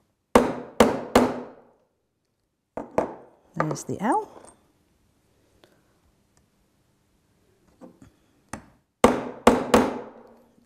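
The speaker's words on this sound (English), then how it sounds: "put each punch firmly on the pendant and tap it with the hammer" A hammer taps steel letter punches into a metal pendant, sharp metallic strikes in quick clusters of three, then a pair, with a brief quiet stretch and a spoken remark between them.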